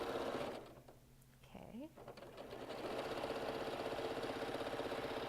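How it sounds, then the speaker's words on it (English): Sewing machine stitching a quarter-inch seam allowance on quilting fabric, a steady rapid mechanical whir and clatter that pauses briefly, then resumes at full speed, with a short spoken word during the gap. "You're just going to sew using a 1/4-inch seam allowance."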